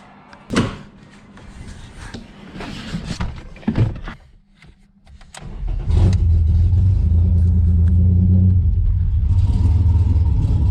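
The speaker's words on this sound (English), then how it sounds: "Obviously it's got no exhaust, but I think it's running on all 6 cylinders." Ford Scorpio Mk1's 2.9 V6 Cologne engine with no exhaust fitted cranks and catches amid door slams and clunks, then settles into a loud, steady, raw rumbling idle that fills the second half.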